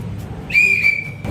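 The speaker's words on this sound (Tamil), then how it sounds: "நான் தான் விசில் அடிச்சேன்" A single bright whistle blast rings out during a church Sunday class game, held for about a third of a second over a low murmur of room noise.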